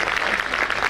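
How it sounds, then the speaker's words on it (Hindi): An audience at a Christmas gathering claps loudly and continuously, a dense, even burst of applause filling the space without pause. "एक बार ज़ोरदार तालियां बजा के मुझे सुनाइए,"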